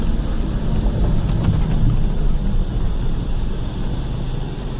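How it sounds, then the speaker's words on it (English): Thunder rolls in a deep, sustained rumble during a tornado storm chase across Oklahoma and Kansas, loud and continuous from start to finish, without any speech. "I'm gonna roll down the window so they can hear the thunder."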